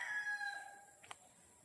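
A rooster in a rural province setting gives a single short, faint crow at the start, followed by quieter outdoor background sound.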